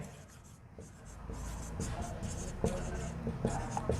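Pen scratching steadily across paper while trigonometric equations are written out by hand, soft close-up strokes with small taps, and someone speaking quietly in the background.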